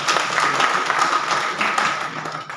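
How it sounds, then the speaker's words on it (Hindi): Applause welcoming a speaker at a one-day national convention in Lucknow, a dense crowd clapping loudly and steadily throughout, close and continuous with no pauses. "जोरदार ताली से स्वागत करिए"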